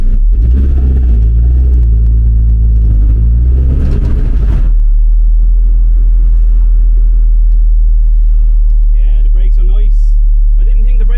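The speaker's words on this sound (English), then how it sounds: "The car is running sweet." A Mini with a Honda K20 VTEC engine idles with a steady low rumble; a voice-like sound and music play over it early, then quieter music continues above the hum.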